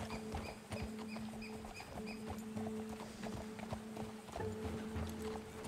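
Horses galloping in the video game Red Dead Redemption 2, a steady run of hoofbeats heard up close at a fairly low level with no voices over it.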